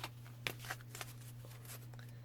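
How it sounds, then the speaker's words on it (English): Tarot oracle cards being shuffled and drawn from a deck, producing soft, quick papery flicks and riffles close by over a steady low electrical hum, with no talking. "So I'll pull out a card for this video."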